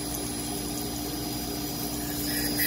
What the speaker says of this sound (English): And it grinds when it hits the part we didn't grind before, and it just cycles nicely like that.